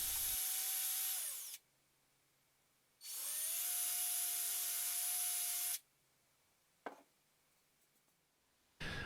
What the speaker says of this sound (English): it's time to head out to the danger zone and drill out the eye sockets